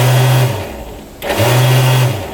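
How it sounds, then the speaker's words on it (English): A small electric bilge pump aboard a cheap used jet boat whirs in two steady bursts with a short gap between, a low buzzing motor hum close by. "That's the bilge pump."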